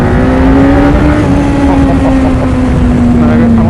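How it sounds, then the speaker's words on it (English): A Suzuki Hayabusa motorcycle runs fast over gravel with a loud, steady engine drone and heavy wind roar buffeting the microphone, close and continuous. "This is a rapid bike, and for standard spec, it's very fast."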